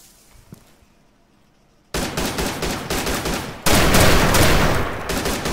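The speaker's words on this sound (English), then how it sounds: "I'm getting shot at from like the window over here across the road from the apartment building." Gunfire in the Arma 3 video game from a window across the road near an apartment building: after a quiet start, loud rapid bursts of shots erupt, then an even heavier volley, close and sustained.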